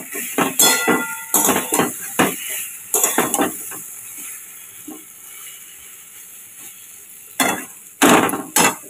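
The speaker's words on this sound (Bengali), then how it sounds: "পটল দিয়ে একটু কষিয়ে নিই।" Pointed gourd tossed with turmeric in a hot pan, heard as bursts of scraping and stirring with a light sizzle, clustered near the start and again near the end, with a quieter stretch between.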